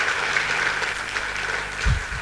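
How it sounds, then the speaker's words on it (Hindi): Audience applause for senior mentors at a motivational talk, a steady wash of clapping that carries through the whole moment at even loudness, with a brief low thump near the end. "जोरदार ताली एक बार मेरे सीनियर मेंटर्स के लिए"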